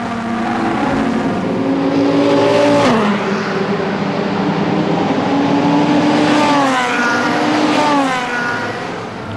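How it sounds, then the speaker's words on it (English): GT race cars, a Corvette and a Porsche among them, battling at Assen circuit: loud, sustained engine roar with rising and falling revs as cars pass close by, with a gear change midway and no talk over it. "Here's the battle then for fourth place. Noel Kohler in the Corvette under all sorts of pressure from René Snell in that Porsche."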